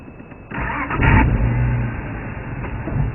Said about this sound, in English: I've got to start the car.